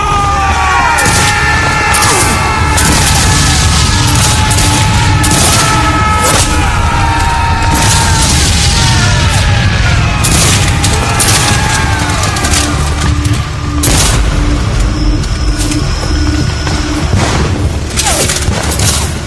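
Musket volleys crack and boom repeatedly in a Gettysburg battle reenactment, dense overlapping shots with shouting voices mixed in, loud and continuous throughout.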